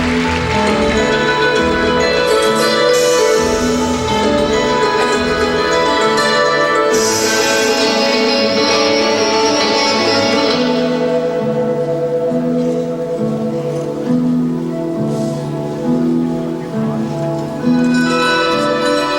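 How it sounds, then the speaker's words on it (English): Orchestral score from Scent of a Woman by Thomas Newman plays loudly over an arena's speakers during a men's free skate at the 2000 European Figure Skating Championships, with steady sustained strings and rhythmic low accompaniment throughout. "What you're hearing is Scent of a Woman, composed by Thomas Newman."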